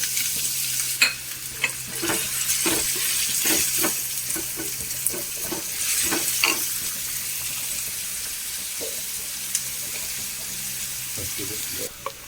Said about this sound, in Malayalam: നമ്മുടെ ഉള്ളിയൊക്കെ നന്നായി വാടി വന്നിട്ടുണ്ട്